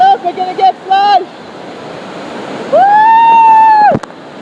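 Rushing water from a Great Wolf Lodge water park slide flushing riders, a steady broadband wash running under the whole stretch, with excited whooping and shouted voices at the start and a long sustained whoop near the end.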